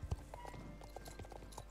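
A horse's hooves in the video game Star Stable Online clip-clop in a quick, even rhythm over a low steady background hum, fairly quiet and with no voice.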